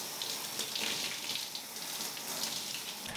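Water runs steadily from a tap during a hair wash, a continuous close splashing hiss with no pauses.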